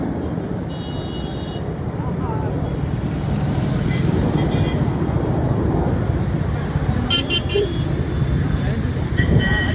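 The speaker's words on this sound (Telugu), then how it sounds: "మొత్తం చూడండి ఫ్రెండ్స్ మొత్తం ట్రాఫిక్" Busy road traffic in Hyderabad on Tank Bund, a steady dense rumble of vehicles with a few short horn toots, with faint voices in the background.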